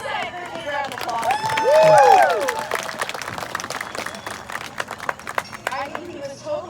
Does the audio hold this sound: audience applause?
yes